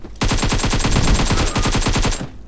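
Rapid automatic gunfire in PUBG, a single loud burst of evenly spaced shots firing for about two seconds, close and alone with no talk.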